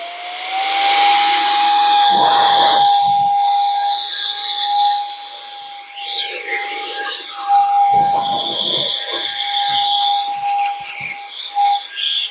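A hand-held air duster blows a sustained, loud hissing jet into the mitre grooves of a table saw in a workshop, with a steady whistling tone running throughout and brief bursts of turbulence as the air hits the metal.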